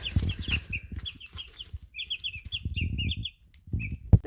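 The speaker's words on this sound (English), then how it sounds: "These are a type of chicken that's called light Brahmas." Two-week-old light Brahma chicks kept indoors in a living room peep in quick, high, overlapping chirps, close by with brief pauses between flurries.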